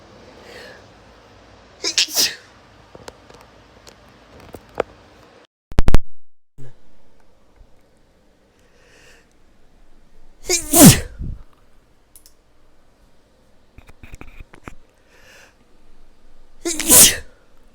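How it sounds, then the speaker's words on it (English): Three loud, sharp sneezes burst out at roughly evenly spaced intervals, separated by quieter stretches with faint rustling and a low murmuring voice. "What's making me sneeze so much?"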